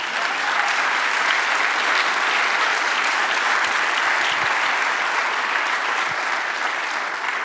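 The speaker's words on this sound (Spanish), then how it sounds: "Dale un aplauso al Señor" Sustained loud applause from a church congregation, dense clapping from many hands continuing steadily throughout with no break.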